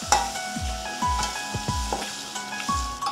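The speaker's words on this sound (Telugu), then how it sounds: "ఇప్పుడు జీడిపప్పు వేసేసుకోవాలండి కొద్దిగా లైట్." Cashews frying lightly in ghee in a pan for palak paneer rice: a steady close sizzle with stirring scrapes and a few soft clacks, no voices.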